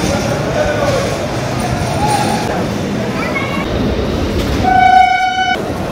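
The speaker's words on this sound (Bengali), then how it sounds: "আমাদের ট্রেন এসে দাঁড়িয়েছে" A passenger train at the Sealdah station platform rumbles loudly and steadily while its horn sounds a long, strong tone near the end, with faint station noise around it.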